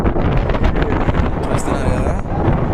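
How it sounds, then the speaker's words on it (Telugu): Strong wind on an open hilltop buffets the microphone in a loud, constant roar, with dense low rumbling gusts sustained throughout. "గాలి మాత్రం విపరీతంగా వస్తుంది."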